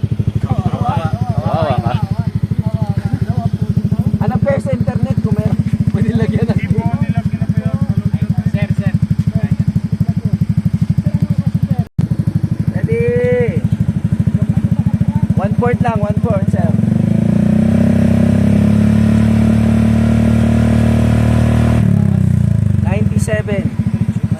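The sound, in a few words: motorcycle with aftermarket muffler revving throttle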